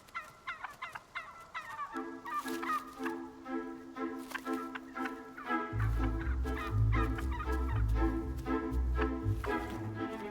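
Wild turkeys gobble repeatedly near sunset after foraging, a rapid rattling series of calls overlapping one another, with a deeper low rumble joining partway through and continuing under the gobbles.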